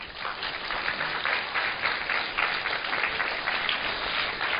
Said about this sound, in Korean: 오늘 이 학생들에게도 큰 박수 부탁드립니다